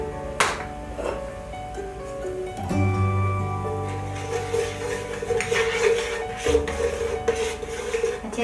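Metal spoon scraping and clinking in a pan as a cornflour mixture is stirred into hot oil, a steady run of light knocks and scrapes close by, with no talking.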